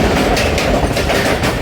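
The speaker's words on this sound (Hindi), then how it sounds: "ले जी 12 डाउन हज़ारा एक्सप्रेस" The 12 Down Hazara Express passes close by on a Pakistani railway line, a loud, continuous roar of rolling coaches with a rhythmic clickety-clack of wheels over rail joints.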